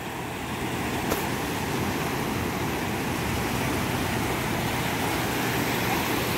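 Steady, broadband ocean surf rushes continuously at a cool shoreline, a constant wash of noise with no clear breaks between waves and no talk.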